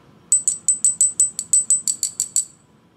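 Black jade bangle tapped about a dozen times in a quick, even series of bright, ringing clicks, close and distinct over a faint low background.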